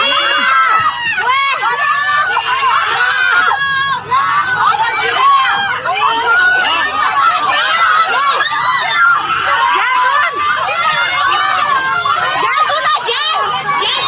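A crowd of people shriek and scream as a sudden wall of flood water arrives, a continuous loud chaotic mass of high-pitched cries and shouting.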